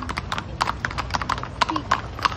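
Horse hooves clip-clop on a city street in Baguio, a quick, even run of sharp hoof strikes close by, with light street ambience underneath.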